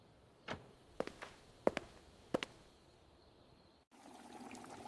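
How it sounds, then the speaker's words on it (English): A few light knocks and taps in a kitchen, then water begins pouring into a big pot of vegetables, a soft, fairly faint steady gush toward the end. "Now let's pour the water and mix the vegetables together in this big pot."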